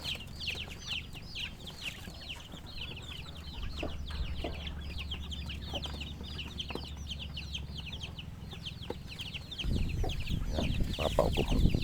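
A backyard flock of eight hens clucking and chattering continuously at close range, busy overlapping calls that swell louder near the end.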